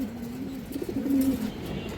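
Soft, low pigeon cooing, a few rolling coos close by with faint background noise and no talking.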